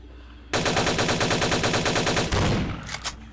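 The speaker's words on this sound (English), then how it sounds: "Still taking shots here." Rapid automatic gunfire in Vampire the Masquerade Bloodlines, a long steady burst of closely spaced loud shots followed by a heavier blast and a couple of trailing single reports.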